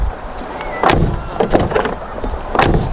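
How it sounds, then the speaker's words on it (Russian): The doors of a Lada Kalina car are opened and closed, giving several close mechanical clunks and latch thuds spaced about a second apart, loud and with no talk over them. "Давайте посмотрим, как открываются двери."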